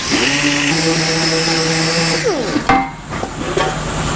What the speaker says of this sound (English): So you want to sand it just enough to get rid of some of those scratches.